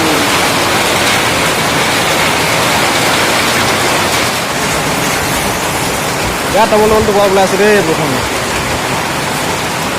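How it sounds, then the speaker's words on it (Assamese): Heavy rain pours down in a dense, steady roar for the whole stretch, loud and close, with a person talking briefly over it near the end. "কেনেকুৱা বৰষুণ আহি গ'ল ইমান লগত বৰষুণ আহি গ'ল"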